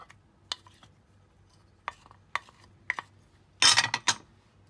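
A spoon works peanut butter cheesecake filling in a bowl by hand, with a few sparse clinks and scrapes and then a louder scraping flurry near the end, close with no talk.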